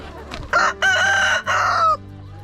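A farm rooster crows once, loud and close: a short opening note followed by two long, strained sustained notes in the classic cock-a-doodle-doo pattern, with faint background noise.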